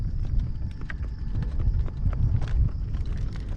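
Hooves of a horse pulling a cart clip-clop in a quick, steady rhythm close by, each strike crisp over low rumbling, continuous throughout.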